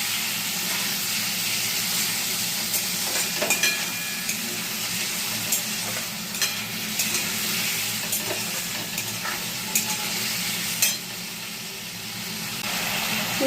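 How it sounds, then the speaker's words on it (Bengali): Prawns and potatoes fry in a pan under a constant close sizzle, punctuated by occasional scraping and clinking stirs of a spatula against the pan. "চিংড়ি মাছ দিয়ে আলু দিয়ে ভালো করে একটু নেড়ে দিলাম"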